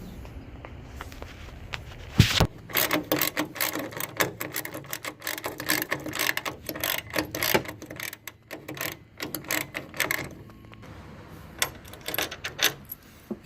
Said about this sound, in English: Next, you're going to come up here and take this bolt loose right here.